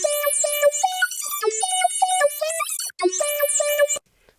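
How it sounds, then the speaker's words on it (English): A bright, bell-like synth melody built from Serum patches plays as a MIDI layer in a beat, with short stepping notes, shimmering high overtones and a short pause near the end before cutting off. "I got all the sounds in this beat from Serum for the melody"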